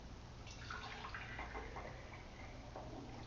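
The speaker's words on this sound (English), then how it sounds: "I'm going to pour some milk in a jar." Raw milk is poured into a jar, giving a continuous splashing trickle with a gurgling, rising tone under a steady low background hum. It is quiet and close.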